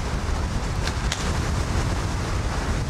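Strong wind roars across the summit of Mount Washington in a whiteout, a steady loud rush buffeting the microphone with gust-driven swells and no voices.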